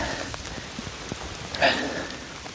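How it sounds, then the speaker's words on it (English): Steady rain with a little hail falling in woodland, a soft continuous patter with a brief brighter burst of impacts near the middle, close and moderately loud. "Don't know if you can tell, but there's a little hail in this."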